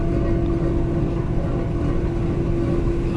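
Steady low engine drone of the car ferry KMP Kumala at night as it begins leaving Bakauheni port, a constant deep rumble with a hum, close and unbroken, no talk over it.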